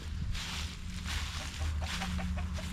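Hens clucking in short repeated calls, moderately close, over a steady low background rumble.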